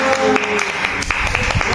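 Brief applause in a classroom microteaching session, a short burst of scattered hand claps mixed with faint voices in the room.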